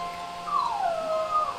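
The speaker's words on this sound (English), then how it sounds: "hearing the dog whine" A Corgi in a video game lets out a drawn, wavering whine that rises and slides down in pitch, a single plaintive cry heard clearly with no talk over it.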